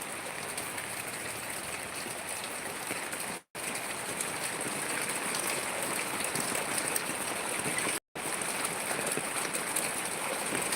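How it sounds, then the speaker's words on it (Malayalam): Heavy afternoon rain pours down on a plantation at Bathery, giving a loud, unbroken hiss of downpour that drops out abruptly twice, then resumes at full strength. "പിന്നെയും മഴ കനക്കുകയാണ്"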